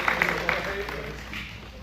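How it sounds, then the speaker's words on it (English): Brief applause from the audience at a brewers' national finals competition, a scatter of claps with a few sharper hits early on, fading over under two seconds. "Everyone, please give a round of applause for Roastronics."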